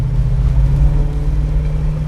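A 1969 Ford Mustang Mach 1 engine rumbles heavily up close, a steady deep throbbing drone with no talking.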